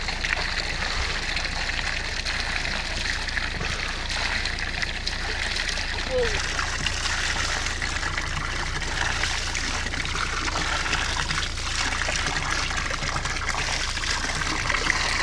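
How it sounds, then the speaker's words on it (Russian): Spring water in Veduchi village, Chechnya, flows in a steady, unbroken trickle close by, with faint voices now and then beneath it. "Вот это родник. Родник поселка Ведучи."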